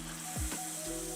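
Fasting (farali) dosa batter poured onto a hot griddle over medium heat gives a steady, close sizzle and frying hiss, with a brief swirl of movement as the batter is spread.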